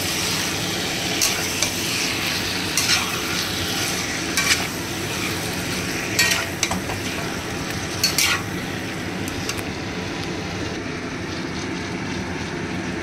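Gizzard and chicken wings frying for kosha, a continuous sizzle with repeated stirring scrapes and metal clinks every second or two, close up with no talking.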